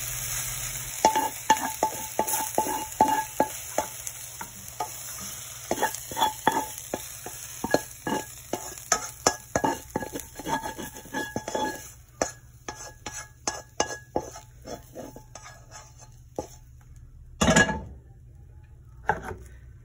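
Rice and garlic fry in a pan for green mango bagoong fried rice, with a soft sizzle under frequent scraping and stirring strokes of a utensil against the pan, close and steady with a louder clatter near the end.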